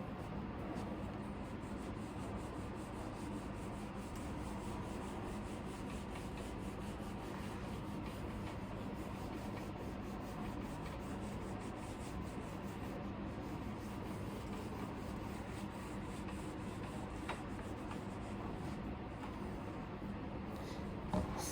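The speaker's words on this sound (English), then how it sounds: "we're just going to rub out what's above here right now" Steady eraser or cloth rubbing across a board as writing is wiped away, a continuous soft scrubbing texture that stays faint and even throughout with no talk.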